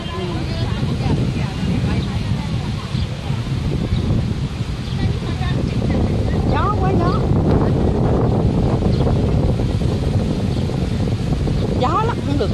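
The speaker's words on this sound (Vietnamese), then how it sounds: "Gió lắm, không được cái gì hết. Gió không được." Strong wind buffets the microphone at the Ponagar tower in Nha Trang, a constant loud rumbling roar throughout, with people talking faintly underneath.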